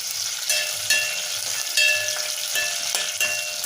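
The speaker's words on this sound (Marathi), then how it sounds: "दोन लाल वाळलेल्या मिरच्या घालते मी आणि हिरव्या मिरच्या मधनं चिरून घातल्या. थोडंसं परतून घ्यायचं." Red dried chillies and slit green chillies sautéing in a pan, a steady bright sizzle with occasional stirring knocks, close and alone.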